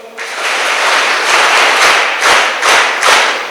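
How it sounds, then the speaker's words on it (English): A youth parliament audience claps in a hall, with a dense burst of applause that swells and pulses in several waves over a few seconds. "Can you all of you can give a big rounds of applause?"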